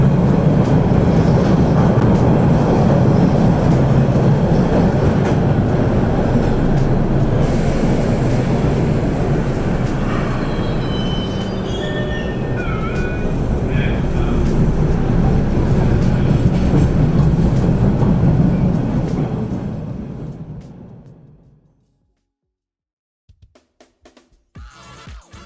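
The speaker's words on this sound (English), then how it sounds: "here in the subway, I can barely hear any of this noise" A subway train roars with a loud, sustained rumble and screeching wheel squeals, then fades out abruptly to near silence.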